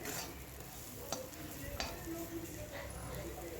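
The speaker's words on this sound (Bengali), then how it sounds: "তো মশলাটা ভালো করে কষিয়ে নিচ্ছি" Turmeric, cumin and coriander powder fried for cabbage dal chachchari, a soft steady sizzle with a few spoon clinks against the pan, fairly faint and alone.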